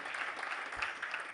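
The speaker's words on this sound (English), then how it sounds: "let's give them a clap" Crowd at a climate action meeting claps in a brief, dense patter of applause, steady and moderately close, with no talking.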